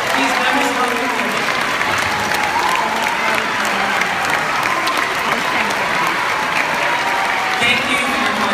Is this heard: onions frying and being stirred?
no